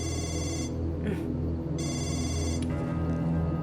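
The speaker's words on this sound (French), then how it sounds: "ton téléphone n'arrête pas de sonner" A telephone rings in repeated electronic bursts, with short pauses between rings, loud and close over a steady low background hum.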